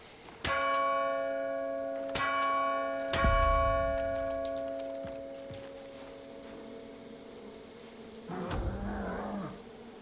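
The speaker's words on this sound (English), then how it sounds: "Let's ring the bell." A large bell in the video game Far Cry: New Dawn is struck three times in succession, each clang ringing out with a long resonant decay, followed by a quieter thud and rustle.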